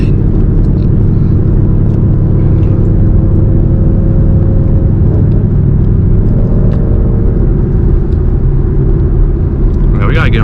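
A Ford Mustang engine drones steadily with low rumble and whirring gear whine from its MT82 manual transmission, loud and close, with voices talking over it.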